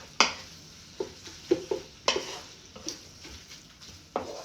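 Pasta sauce being mixed in a pan, with a utensil scraping and clacking against the pan in irregular strokes over a soft sizzle, close and fairly quiet.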